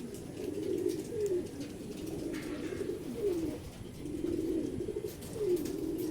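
Racing pigeons arriving at a loft in Santa Maria after club training, their repeated soft coos rising and falling near and steady over a continuous outdoor background hiss.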